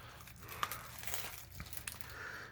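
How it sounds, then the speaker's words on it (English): Plastic wrap on a deck of game cards crinkles and tears as it is opened, a close, continuous rustling with a few sharper crackles. "Try to open a deck of cards without destroying said cards."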